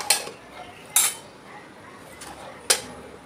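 A spoon clinks against a bowl three times, sharp separate knocks while stirring sweet batter made from overripe bananas, close and fairly loud with faint scraping between the hits.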